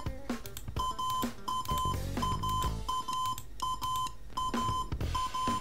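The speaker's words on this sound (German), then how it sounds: "dass ich gegen das Piepsen anbrüllen muss" A Novag Super Expert A chess computer gives off a run of short, bright electronic beeps in a steady stop-start pattern, mixed with soft clicks and knocks nearby.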